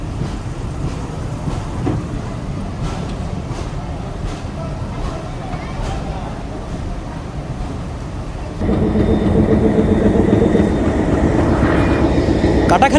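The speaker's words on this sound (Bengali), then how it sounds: "রেলওয়ে স্টেশনে আমাদেরকে নামিয়ে দিয়ে চলে যাচ্ছে ট্রেন নাম্বার পঁচানব্বই ছিয়ানব্বই মোংলা কমিউটার" The Mongla commuter train, number 95/96, rumbles and clatters steadily nearby, swelling louder partway through as it pulls away from Katakhali station in Bangladesh, with a faint voice underneath.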